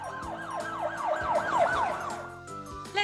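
A toy police car in a children's puzzle game gives a quick, rapidly wavering siren, several fast up-and-down whoops in a row, layered over soft background music.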